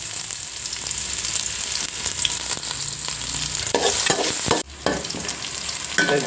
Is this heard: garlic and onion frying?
yes